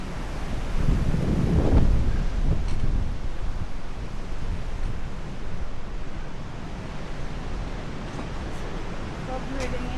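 Strong gusts of wind buffet the microphone on a rocky hiking trail at Woolpack Rocks, a loud, continuous roar surging early and then holding steady.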